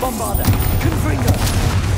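In Hogwarts Legacy, Bombarda and Confringo spells explode in quick succession, a loud, continuous barrage of thuds and crackling blasts with a voice mixed in among them.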